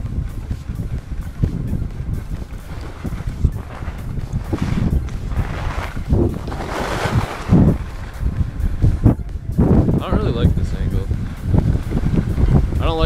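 Heavy, continuous wind buffeting against a microphone while skiing, rumbling and gusting throughout, with a voice talking underneath.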